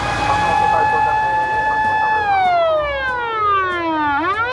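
An electronic ambulance-style siren wails loud and close, its pitch gliding down in long sweeps, sounding thin and toylike.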